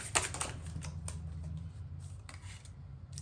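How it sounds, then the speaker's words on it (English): Tarot cards being shuffled by hand during a reading, soft rapid riffles and taps in short bursts, close and quiet against a low background hum. "I keep getting that card and I'm like, maybe I'm not giving it a good shuffle."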